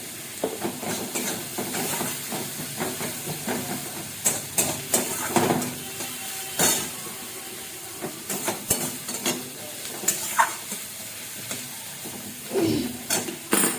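A tomato and dried chilli paste hits frying onions in a pan, giving a steady close sizzle broken by repeated scraping stirs and bursts of spattering, with no talking.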